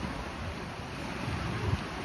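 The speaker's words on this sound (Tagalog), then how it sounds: "Antayin natin yung mga alon" Ocean waves washing onto a beach at Boracay, a steady rushing surf with a slight swell toward the end, heard without talk.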